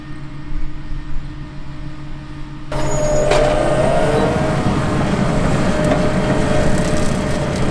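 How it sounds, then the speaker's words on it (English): A Dewulf potato harvester fitted with Claas TerraTrax tracks works a field four beds at a time, its engine and machinery droning loudly and continuously, with a sudden rise in rumbling and clattering as the harvesting gets under way. "The Dewulf harvests 4 75-centimetre beds at a time and is fitted with the Class TerraTrax"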